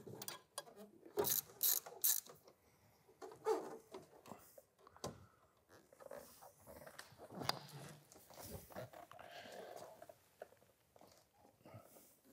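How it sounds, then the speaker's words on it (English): A ratchet loosens the front bumper screws on a Mercedes 560SL R107, with bursts of close, rapid clicking separated by pauses and handling noise. "I'll now loosen the bumper screws."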